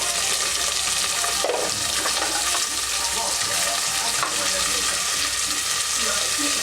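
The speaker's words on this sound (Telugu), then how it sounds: "ఇదంతా మిక్స్ చేసేస్తున్నాను." Bottle gourd curry with chilli powder and turmeric sizzles and fries in a pan while being stirred, a steady, close, bright crackle throughout with occasional scraping of the spoon.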